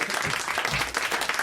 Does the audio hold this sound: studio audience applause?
yes